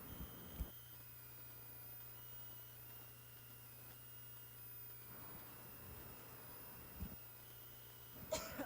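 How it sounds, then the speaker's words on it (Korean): A single sharp cough near the start, then brief throat-clearing bursts later in a quiet room with a steady low hum and no speech. "제가 지금 기침이 나가지고."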